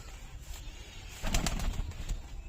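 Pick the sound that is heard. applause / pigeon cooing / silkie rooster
pigeon cooing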